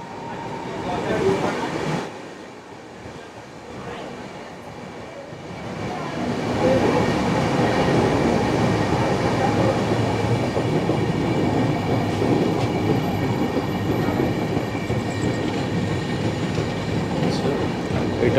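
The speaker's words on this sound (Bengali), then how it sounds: "বেশ অনেকক্ষণ ধরেই কিন্তু মানে ধীর থেকে অতি ধীর গতিতে ট্রেন যাচ্ছে।" Aboard the 22201 Puri Duronto Express in first class near Andul, the train creeps along very slowly. Its deep continuous carriage rumble and rattling swell from quieter moments into a steady, loud drone.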